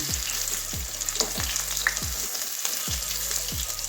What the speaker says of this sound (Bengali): এবারে বেগুনগুলো উল্টে দিচ্ছি, এক পাশটা ভাজা হয়ে গেছে, তো আরেক দিকটা উল্টে দিচ্ছি।